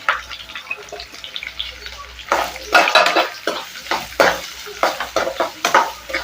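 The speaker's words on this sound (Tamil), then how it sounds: "இப்போ நல்லா வதக்கி விட்டுக்கலாம்" Chopped onion and a sprig of curry leaves sautéing in a pan for cabbage poriyal, crackling sizzle broken by repeated close scraping stirs with a spoon, loud and uneven, with faint talk at moments.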